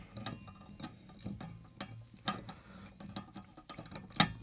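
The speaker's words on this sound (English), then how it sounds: "So now we're tightening that bolt." A ratchet tightening a bolt on sim racing pedals gives close, quiet clicking pawl bursts in short irregular runs, with a few sharper metallic ticks.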